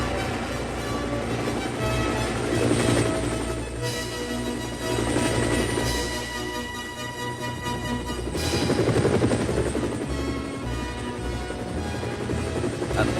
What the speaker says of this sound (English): There, ready for action, was Harold the helicopter.